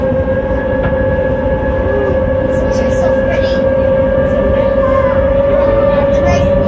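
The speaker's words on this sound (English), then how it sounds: "hear those vertical thrusters whining, they're pushing us down." A steady high-pitched mechanical whine of a submarine's vertical thrusters pushing it down on a dive in Hawaii, constant throughout under a low rumble, with someone speaking briefly over it.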